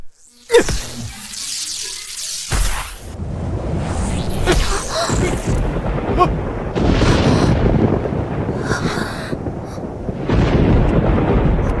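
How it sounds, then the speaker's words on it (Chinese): Thunder rumbles and cracks loudly, a sharp clap near the start followed by long rolling booms that stay heavy throughout. "这是打雷了吗？"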